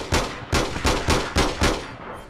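Gunfire in the online game APB Reloaded, about seven loud, evenly spaced shots each with a short ringing tail, fired close by without any talk over them.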